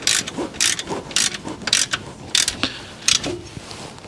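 A hand ratchet tightens bolts on a truck alternator bracket in the engine bay, making quick bursts of clicking in a steady back-and-forth rhythm, close and clear.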